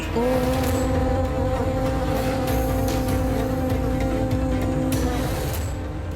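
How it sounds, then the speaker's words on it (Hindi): A swarm of bees buzzes in a loud, dense, continuous drone, with steady humming tones over a rumbling bed of noise and no speech. "इन मधुमक्खियों का उन पर चढ़ने के स्थान पर ये तो जैसे उनका चरण स्पर्श कर लौट रही हैं"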